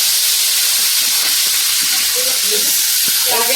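Ginger frying in salted oil in a wok, a loud close sizzle and hiss with bursts of crackling, steady throughout.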